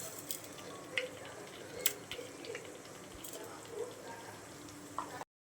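Cumin and fenugreek seeds sizzle in a few spoonfuls of hot oil for a fish curry, a faint steady frying hiss with scattered small pops and crackles.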